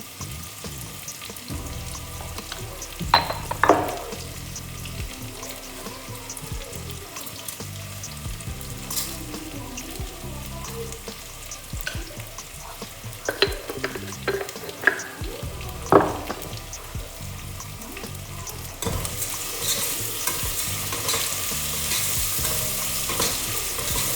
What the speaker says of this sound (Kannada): ಈಗ ತೋರಿಸ್ತಿದ್ದೀನಲ್ಲ ಅಷ್ಟು ಫ್ರೈ ಆದರೆ ಸಾಕು ಆನಿಯನ್ನು. ಹಾಗೆ ಟೊಮೆಟೊನು ಫ್ರೈ ಮಾಡಿಬಿಟ್ಟಿದೆ